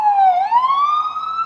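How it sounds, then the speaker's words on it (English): An ambulance siren wails loud and close, its tone dipping then rising steadily as the vehicle passes on the street outside a courthouse, with no talk over it. "Oh, these ambulances."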